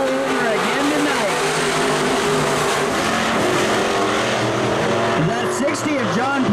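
Stock race cars roar around the oval at Electric City Speedway, including the Ford-powered number 60 car, their engines rising and falling as they sweep past, under an announcer's continuous commentary.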